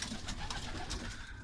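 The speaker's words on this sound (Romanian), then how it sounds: "Deci ăsta e Tinichigiu, porumbelul care i-a plăcut la produse petroliere." Pigeons coo inside a racing pigeon loft, soft repeated calls over a steady rustling background.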